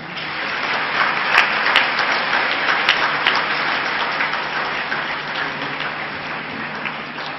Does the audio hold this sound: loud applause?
yes